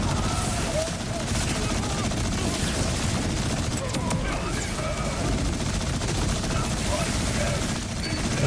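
Continuous rapid gunfire in the video game Borderlands 4 from an infinite-ammo build, an unbroken loud rattling stream of shots with booms and mechanical noise layered in, the trigger never released across the whole stretch.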